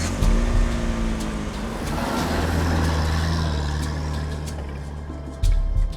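Repaired expedition cars drive on along a remote road, their engines droning loudly and steadily with rumbling low tones, a shift in pitch midway and a sudden drop near the end.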